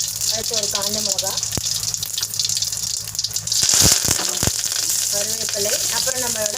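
Dried red chili and mustard seeds frying in oil while tempering for capsicum usili, a close sizzle with sharp pops and clatters, under a voice speaking.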